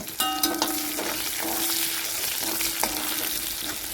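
Chopped shallots sizzling in a pan of oil with popped mustard seeds and chilli, a steady close crackling fry with a few sharp spatter pops and a faint stirring scrape.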